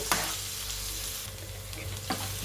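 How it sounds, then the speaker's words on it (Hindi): Finely chopped onion frying in oil for semolina momos, a steady soft sizzle punctuated by two spatula scrapes against the pan, close and fairly quiet, no talking. "तो अब सारी चीज़ों को हमें अच्छे से यहाँ पर भून लेना है।"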